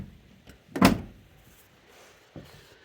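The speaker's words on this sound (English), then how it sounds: "get this door shut" A Dodge D100/D150 truck door swings shut with one solid, close thud, followed by a fainter latch knock a couple of seconds later.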